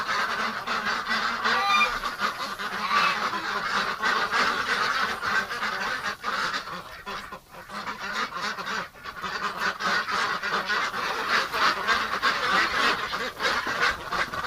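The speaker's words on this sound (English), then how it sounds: "There's too many ducks in here." Muscovy ducks and other ducks in a winter pen give a dense, continuous chorus of honks and quacks, loud and close, with calls overlapping throughout and no talk.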